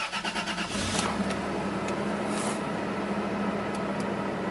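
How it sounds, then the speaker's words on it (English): A used car's engine cranks with a quick rhythmic churning for under a second, then catches and settles into a steady, close idle hum that continues without talk. "now we're going to start up the vehicle and listen to the engine and how it sounds at startup"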